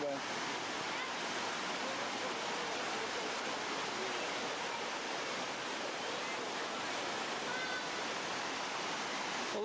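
Water rushes beneath a rock with a steady, dense hiss and roar, close and unbroken for the full duration with no clear changes in level.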